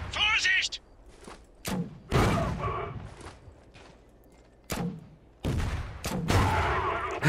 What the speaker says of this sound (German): Ich schieße gerade so viel daneben.